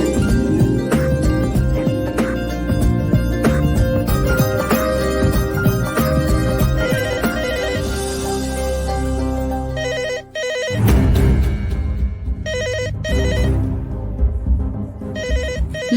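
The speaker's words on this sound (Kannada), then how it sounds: "landline phone ring ಆಗ್ತಿದೆಯಲ್ಲ" A landline telephone rings in a home, its bell pattern repeating steadily and loudly over background music for most of the stretch, with no one talking.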